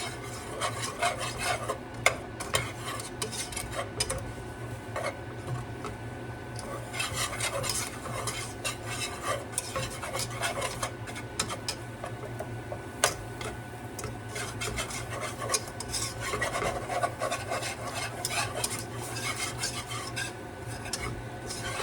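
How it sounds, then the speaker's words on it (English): A whisk stirring roux into a cream sauce in a pan, with continuous rapid scraping and rasping against the metal over a low sizzle, steady throughout, with no speech. "we're going to take a whisk and whisk this right in"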